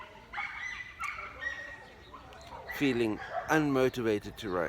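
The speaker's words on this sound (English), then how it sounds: "sorry about the dog noise in the background" A small dog yips and barks in the background of an indoor room, with short high bursts that stand out in the later seconds while a person keeps talking over them.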